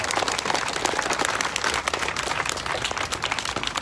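Crowd clapping at an outdoor Juneteenth rally on a town field, a steady, dense patter of many hands continuing throughout the short stretch.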